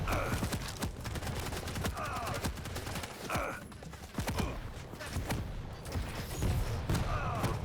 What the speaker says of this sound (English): with the dual machine guns coming in